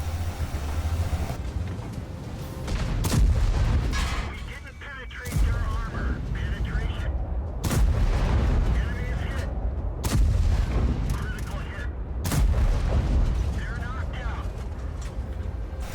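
Tank cannon fire in World of Tanks, including a heavy tank in an E 100 class battle, with repeated loud booming shots amid engine rumble and battle noise, under continuous talk.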